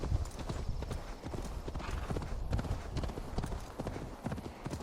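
Horse hooves galloping in Assassin's Creed Valhalla, a fast, loud, continuous clip-clop rhythm close up, with a faint whinny and some game ambience around it.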